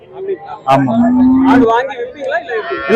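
Dairy cows at the Erode cattle market moo loudly and close by, one long low call followed by shorter lowing, with other livestock noise and faint voices in the background.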